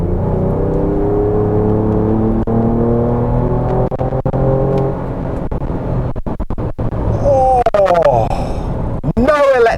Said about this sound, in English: So exhaust in sport mode.